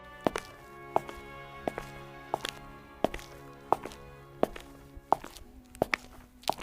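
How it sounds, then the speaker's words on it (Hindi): Footsteps of a man walking up to a village house, about a dozen evenly paced, close, distinct steps with sharp impacts, heard over a faint musical background and no talk. "सेठ किशोरी लाल हरिया के घर जाता है।"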